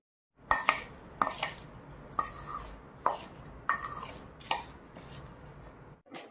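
Amla (Indian gooseberry) pickle being mixed with spices and a fried tempering: a spoon knocks and scrapes against the bowl in about eight close, fairly loud strokes spaced roughly a second apart.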